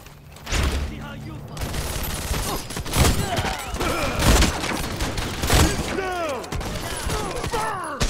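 Rapid bursts of gunfire and explosions from The Expendables 2 video game, loud and continuous with repeated shots and booms throughout, mixed with game effects.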